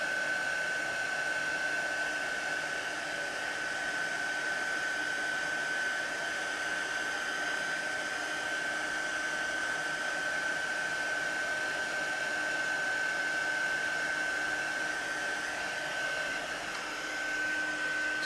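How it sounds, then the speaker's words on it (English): A heat gun blows steadily over embossing powder on a stamped floral image during card making, a constant close whooshing roar with a thin high whine running through it, uninterrupted and with no talking. "I'm just moving my heat gun over the image like so"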